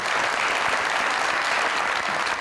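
A live studio audience applauds models at a comedy show, dense continuous clapping filling the room at steady loudness with no voices on top.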